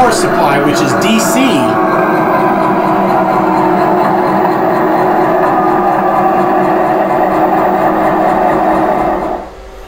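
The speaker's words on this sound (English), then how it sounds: "Now our locomotive is running, so we're going to go ahead and move in the forward direction." A USA Trains GP38-2 model locomotive fitted with a BLU-4408 sound unit runs forward on DC track power, giving a steady, loud diesel rumble with a humming drone that holds throughout and then drops away at the very end.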